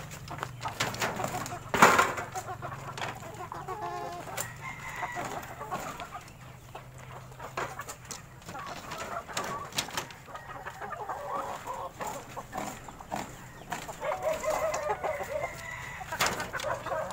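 Free-range Shamo and heritage chickens cluck and chatter intermittently over a steady outdoor background, with one louder squawk near the start and a rising flurry of clucks near the end.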